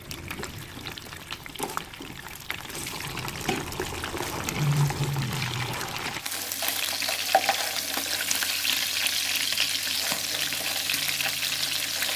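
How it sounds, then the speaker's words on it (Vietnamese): Crab sizzles and crackles steadily in hot oil in a pan, growing louder and more intense partway through with clinks and stirring. "Giờ mình dạo lên bếp để chiên cái cua."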